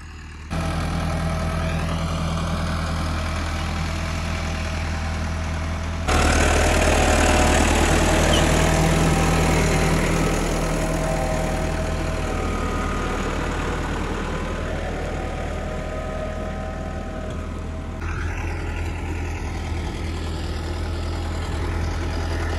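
Massey Ferguson 385 tractor engine pulling a laser land leveler in a farm field, a steady loud diesel drone with a deep low rumble that swells louder midway, then settles back to a constant run, no talking.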